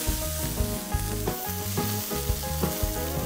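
Butter sizzles in a hot pan while salmon is cooked, a steady close hiss with soft crackles and a low tonal hum running beneath.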